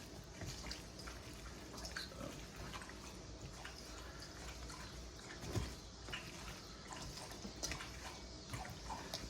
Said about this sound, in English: Silly dog getting a drink of water in the background.